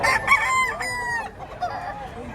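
Chickens cluck and squawk loudly up close in a short burst, several birds calling over one another amid poultry market bustle.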